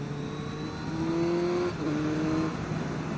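A Suzuki Hayabusa motorcycle engine revs steadily from the rider's position, with a brief dip in the drone at a quick shifter upshift before it pulls on at a new pitch, with no speech.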